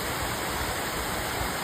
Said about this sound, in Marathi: इथून मस्तपैकी ते धबधबा आहे